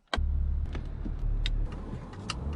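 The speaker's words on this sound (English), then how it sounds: "here we are taking off in the 2019 Volkswagen Touareg" A 2019 Volkswagen Touareg starts moving off, its low engine hum steady and close with a few light clicks and rattles over the top, no voices.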